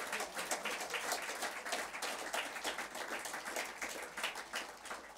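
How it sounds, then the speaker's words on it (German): Steady applause from a crowd at a Political Ash Wednesday rally in Passau, dense clapping that holds at an even level throughout. "Applaus"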